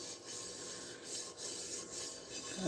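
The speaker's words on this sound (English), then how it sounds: "this brush is really amazing. It's made of horsehair" A horsehair brush scrubs kitchen pans in a steady back-and-forth rhythm of soft, close rasping strokes, about five or six passes, with no voices.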